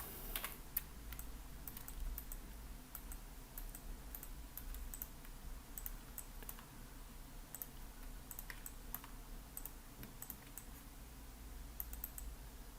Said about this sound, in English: I'm doing this by clicking, then shift, hold, and click again, and it will make a line.